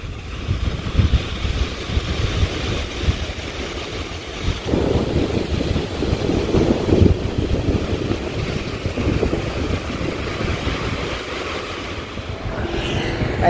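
Sea waves roll continuously onto a beach near Da Nang, a steady loud roar of surf mixed with heavy wind buffeting the microphone throughout.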